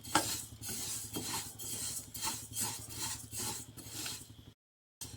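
Sesame seeds fry in a pan while being stirred, giving a rhythmic, close scraping and rasping with faint crackle. The sound runs steadily, then drops to a brief silence near the end.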